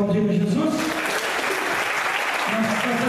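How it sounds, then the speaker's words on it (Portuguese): Church congregation applauding, a short burst of steady clapping with voices singing or calling over it. "Vamos aplaudir a Jesus?"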